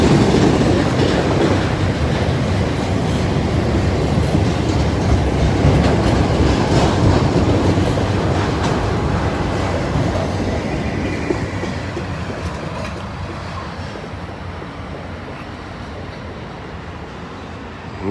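A freight train hauling empty pickup truck frame cars rolls past, a loud continuous rumble and clatter of wheels that eases slightly toward the end.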